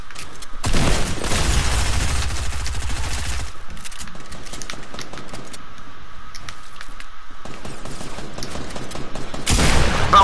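Bursts of rapid gunfire in a shooter game, a loud volley at the start, then quieter scattered shots and clicks, and another loud burst at the end.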